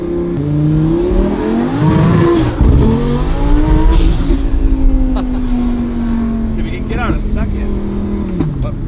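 A DDE Lamborghini Murcielago engine revs and pulls hard through the gears, its pitch sweeping up with each shift before settling into a steady, loud drone close by.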